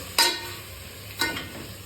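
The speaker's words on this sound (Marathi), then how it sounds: "आता चिकन टाकलेलं आहे आणि मिक्स करून घ्यायचं मस्त त्याला." Chicken frying in a pan as it is stirred, a soft continuous sizzle with two distinct scraping stir strokes, close up and without talk.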